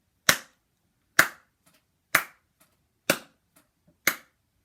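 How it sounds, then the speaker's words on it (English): A single person claps hands five times in an even, slow rhythm, each sharp clap close and crisp, separated by near silence. "let's start with some claps"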